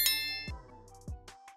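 Notification bell sound effect in a quick chiming sequence: a bright ding, two soft whooshing pops and a few tinkling sparkles, all clean and close with no talk.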